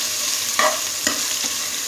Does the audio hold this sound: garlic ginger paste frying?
yes